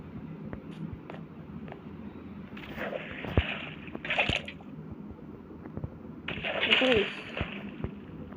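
Short bursts of splashing, pouring water in Minecraft rise and fade twice amid background noise, with a voice speaking faintly underneath.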